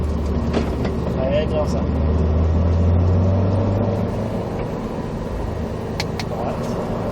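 A Subaru WRX STI accelerating on a track at a driving course, its engine a steady loud low rumble throughout, with an instructor talking over it.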